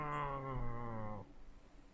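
A voice imitates a cat wrestling behind a locked door, giving one drawn-out, throaty yowl that lasts about a second and then cuts off, leaving quiet room tone.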